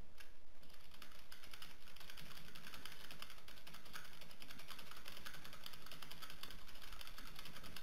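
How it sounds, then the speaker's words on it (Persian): Steady, rapid tapping of keys on a computer keyboard, close by and continuous, with no voices. "من اینا رو پاک میکنم، شروع میکنم به تایپ کردن"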